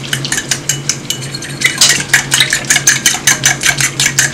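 A spoon stirs yeast into warm water in a bowl with quick, rhythmic clinks and scrapes that repeat several times a second. The sound is close and fairly loud, and nothing else is heard.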